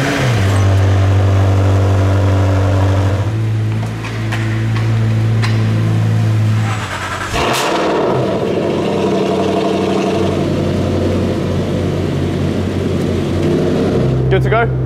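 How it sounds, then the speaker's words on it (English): Two V8 car engines running inside an enclosed garage, a loud continuous rumble with revving and idling tones, a brief starting surge midway, and people talking over the noise. "It's so noisy in here, just two V8s"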